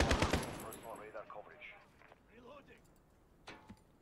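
Gunfire from a PC shooter video game, a burst of several sharp shots at the start followed by a few fainter ones near the end, with a voice talking over the middle.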